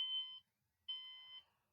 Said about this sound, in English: Ooh, an alarm.